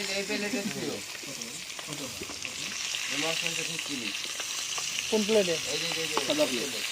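Fish frying in a pan gives a constant bright sizzle throughout, with a person talking over it in several bursts.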